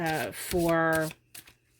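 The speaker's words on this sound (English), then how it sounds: "I just kind of shuffle because it helps me channel." A deck of cards shuffled during a psychic past-life reading: a soft papery riffle under a voice, then a couple of brief flicks and rustles near the end.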